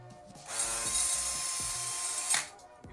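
A cordless drill fitted with a wire brush attachment spins against a nut, a steady high-pitched whirring grind lasting about two seconds, with softer mechanical clicks before and after.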